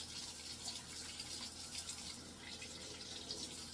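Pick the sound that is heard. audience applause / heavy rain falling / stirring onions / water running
water running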